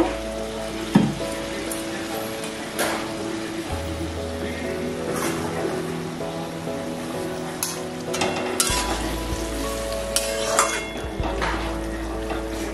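Pointed gourd with paneer cooking covered in a pan on low heat, a steady soft simmer and sizzle with occasional clinks and a low background hum.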